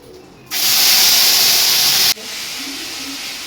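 Beaten sour yogurt poured into hot oil tempered with bay leaf, dried red chilli and cumin for a Bengali potato dolma, erupting into a loud, sustained sizzle for about a second and a half, then settling into a steady quieter hiss.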